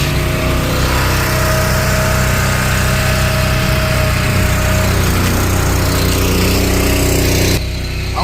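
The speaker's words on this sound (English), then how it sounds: "That's America's log splitter." A gas engine on a log splitter runs at a firewood expo, a loud, steady high-revving buzz holding constant throughout before cutting off abruptly near the end.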